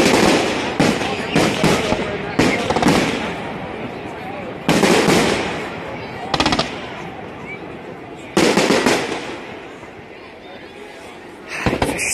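Fireworks at the 2017 Dunnville Mudcat festival, with loud, sharp explosions arriving in clusters, some bursts crackling and decaying over a second or two before the next volley, heard from nearby.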